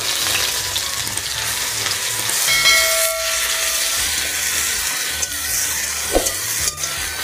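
Onion paste frying in a pan, a steady loud hiss and sizzle with a few stirring scrapes and soft clicks throughout.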